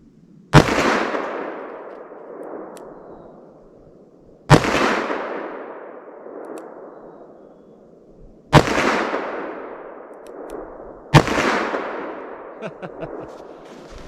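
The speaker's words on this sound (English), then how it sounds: "All right, try the 44. 44 mag. I'll try to shoot" Four loud .44 Magnum revolver shots fired with Buffalo Bore Barnes ammunition, each a sharp close crack followed by a decaying echo, spaced a few seconds apart, with no talking between them.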